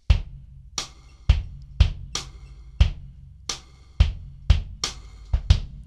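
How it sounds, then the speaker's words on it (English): Solo drum-kit groove with a shaker pattern: about a dozen sharp, evenly spaced kick-and-snare hits ring out cleanly and close, with no talking over the playing. "I'm going to play this pattern with the bass drum"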